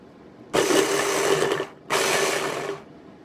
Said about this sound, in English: Chopping onions is any husband's nightmare. So, if you have the chopper, that is eliminated.